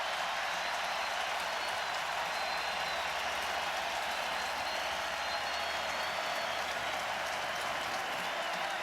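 Stadium crowd at a college football game, Stanford at Notre Dame, applauding in a dense, sustained roar of clapping and cheering that fills the whole stretch at high level.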